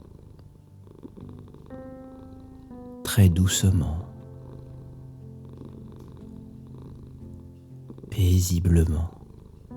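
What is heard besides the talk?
cat purring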